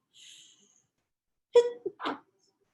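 One person sneezes close by in a quiet room, a sharp burst followed by a brief trailing exhale after a faint hiss.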